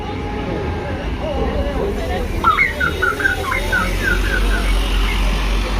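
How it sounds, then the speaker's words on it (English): A sightseeing bus sounds a playful musical horn, a quick run of stepped tonal notes rising over busy street noise and crowd murmur. "That's the sightseeing bus doing a funny horn."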